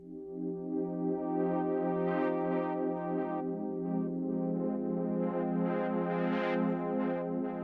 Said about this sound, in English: I'm using it to play a pad sound